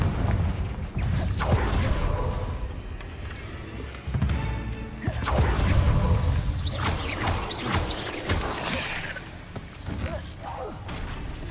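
Confringo spell blasts in the game Hogwarts Legacy come as dense, booming explosions over continuous rumbling game effects, loud and sustained with several rough swells.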